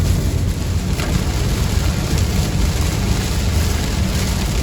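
Steady heavy rain drums on a car roof and windshield, with a low road rumble underneath, continuous and loud throughout.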